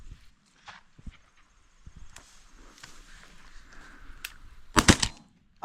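A shotgun blast on a dove hunt rings out once near the end, loud and sharp against faint outdoor rustling and footsteps.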